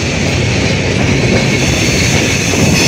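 An intercity express train runs on the line from Saidpur to Santahar, giving a loud, steady rumble of wheels and carriages with no clear breaks and no talk.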